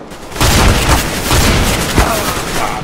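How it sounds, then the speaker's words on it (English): A shotgun blast in Counter-Strike: Global Offensive sounds as a loud, heavy boom followed by further rapid gunfire and thuds, dense and close over a few seconds. "Okay, I just died. Shotgun at that range."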